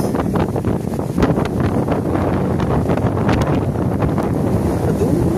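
Strong wind roars and buffets the microphone in a continuous loud rush, with gusty surges and a water-like wash running underneath.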